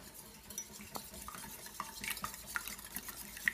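Eggs whisked for an omelette in a bowl, a quiet run of light clinks and taps from the utensil against the bowl, irregular and close, with no talking.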